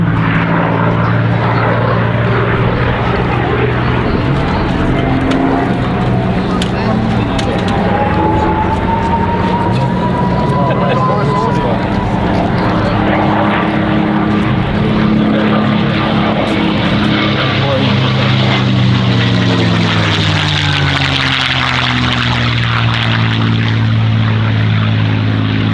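A North American P-51 Mustang WWII warbird flies at an airshow, its loud propeller engine droning continuously and shifting in pitch as it passes, with a voice talking over the sound.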